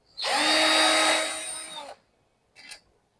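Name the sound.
power tool unscrewing nuts on a battery pack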